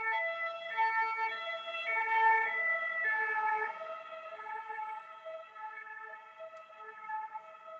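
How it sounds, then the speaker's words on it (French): Emergency vehicle sirens wail steadily in Paris, a continuous rising and falling tone with layered pitches from more than one vehicle, fairly loud and fading a little toward the end, with no talk over them. "J'entends des sirènes tout depuis 2 heures."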